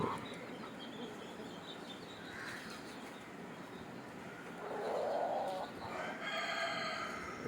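Country chickens cluck intermittently in an outdoor setting, with a steady background hiss and a brief louder squawk near the middle; no speech.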